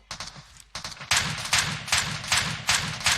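An M249 machine gun fires in PUBG Mobile in quick repeated bursts, starting with short clipped volleys and moving into longer sustained fire, and no voices are heard.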